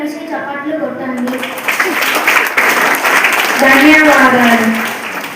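Schoolchildren at an English-medium school's general-knowledge quiz clap together, loud applause swelling mid-stretch beneath a speaking voice heard throughout.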